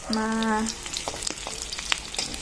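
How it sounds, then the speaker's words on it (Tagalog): Tofu fries in a pan with a crackling sizzle, opening with a short tonal hum. Soft clicks and small pops follow as it cooks, without speech. "So ngayon nga ay may sinalang na akong tokwa."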